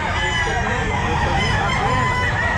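A bull stag rooster crows loudly and close at a busy pet market, one drawn-out call over a dense background of other fowl and crowd noise.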